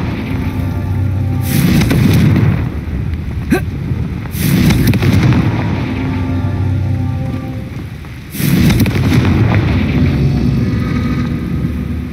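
Confringo fire spell explosions from the Hogwarts Legacy video game, with three loud, booming blasts and crackling bursts about three seconds apart. Rumbling tails sit over a steady game ambience.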